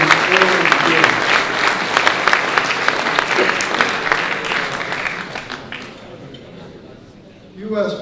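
Audience applause at the 2019 Capital Link Hellenic Leadership Award event: dense, steady clapping from a large crowd for several seconds, then thinning and fading to quiet, with a brief voice near the end.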